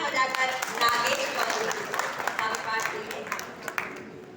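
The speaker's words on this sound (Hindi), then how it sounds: "तालियां बजाकर" Applause from the audience at an all-India Hindi poetry gathering and mushaira, a dense steady clatter of clapping with a voice speaking over it throughout.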